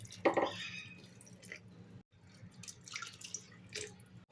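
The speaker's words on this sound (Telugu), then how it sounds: "2 గ్లాసుల నీళ్లు పోసుకొని" Two glasses of water poured into a cooking pot of blended paste while making a traditional winter dish, heard as a short wet splash and dripping near the start, then quieter liquid sounds and faint handling noise.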